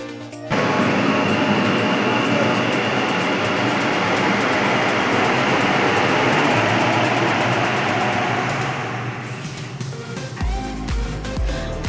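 A metro train runs at a large open station with a steady, loud rumble and rushing hiss. The noise holds for several seconds, fades near the end and gives way to lighter, uneven noise.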